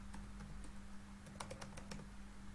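Code being typed on a computer keyboard, quiet close key clicks in short uneven bursts over a faint steady electrical hum.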